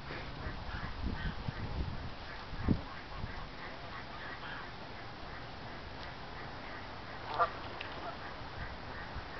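Canada geese honk intermittently in the distance, faint calls rising above a steady outdoor background noise, with a couple of louder honks.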